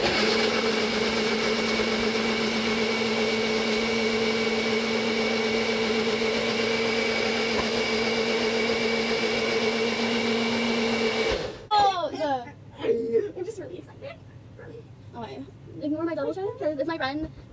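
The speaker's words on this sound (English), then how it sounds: "We're gonna do a blender dance." A kitchen blender runs steadily and loudly with a constant whine for about eleven seconds, then cuts off abruptly, after which people talk close by.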